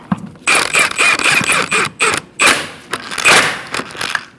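Car wheel on a 2004–2012 Chevrolet Colorado being spun by hand and walked onto the hub: loud, close scraping and creaking metal rubs in repeated short strokes with brief gaps, no talking.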